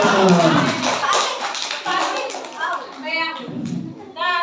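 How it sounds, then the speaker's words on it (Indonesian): A group of children claps together during a Maulid Nabi celebration at an Islamic foundation, brisk close applause mixed with lively children's voices and chatter. "Tepuk tangan."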